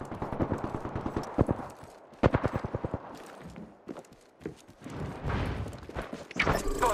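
Bursts of rapid gunfire in a video game firefight, with sharp rhythmic volleys separated by short pauses and scattered shots, loud and close throughout.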